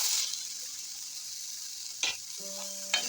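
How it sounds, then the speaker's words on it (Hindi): Chickpeas are roasted with spices in a pan over a steady, hissing sizzle. A few stirring scrapes and clatters break in along the way, with a faint hum underneath and no talking. "और चनों को थोड़ा सा भून लेते हैं।"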